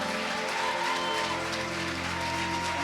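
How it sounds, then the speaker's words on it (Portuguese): A church audience applauds in a steady, continuous wash of clapping, heard faintly and from a distance, lasting under three seconds. "Então aplaude eles também."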